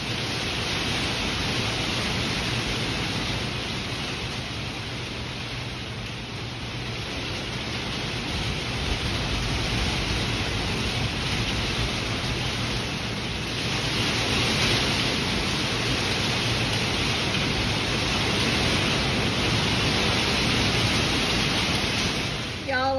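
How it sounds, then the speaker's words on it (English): Heavy rain drums steadily on a metal roof, a loud, dense, unbroken roar that holds for the whole stretch with no let-up. "the rain is just not let up, and it was just too noisy on this metal roof"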